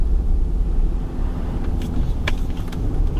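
A Ram HD HO Cummins diesel pickup with a reflashed Aisin transmission, running unloaded and accelerating through its gears, makes a steady, close, low engine and road rumble throughout, with faint brief hiss bursts near the end.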